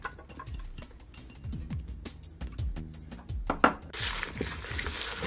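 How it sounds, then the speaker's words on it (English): Sliced onion is tossed with salt and lemon in a bowl, giving a run of light clinks and soft clattering knocks at close range, then a louder rustling hiss near the end, with no talking. "So just mix it properly so all the salt and lemon is on the onion"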